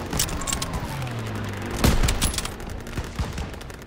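Call of Duty gunfire crackles in rapid bursts with a heavy boom near the middle, followed by scattered sharp shots amid rumbling battlefield noise and a low engine drone.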